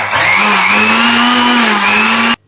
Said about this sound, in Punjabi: ਤੋ ਇਹਨੂੰ ਆਪਾਂ ਮਿਕਸੀ ਦੇ ਵਿੱਚ ਰਲਾ ਲਿਆ